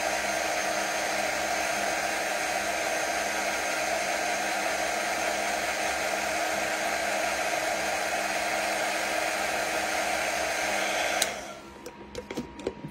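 A heat tool blows hot air steadily onto a Chalk Couture ghost craft project, a loud, even whooshing hum that runs for about eleven seconds and then cuts off, leaving a few faint clicks and handling sounds.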